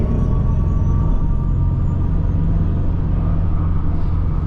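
A Mercedes CLA electric car on the Autobahn plays its synthetic 'Fractal Fusion' drive sound, a steady low droning hum with a faint tonal layer, blended with continuous road and cabin rumble.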